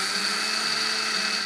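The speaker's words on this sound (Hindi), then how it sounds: "अभी पीछे बची हुई अलसी को भी हम मिक्सी के जार में डाल करके पीस लेंगे।" Mixer grinder jar whirring at high speed as it grinds flaxseed into powder, a loud, steady motor whine without a break that cuts off at the end.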